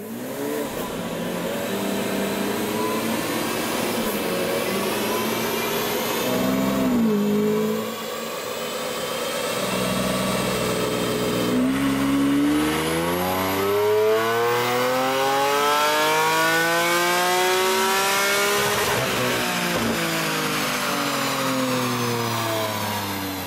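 A Lamborghini Aventador with a custom exhaust revs hard on a dyno, the engine note climbing and falling in long sweeps, loud and close throughout with a brief dip midway and no talk.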